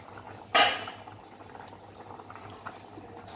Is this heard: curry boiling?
yes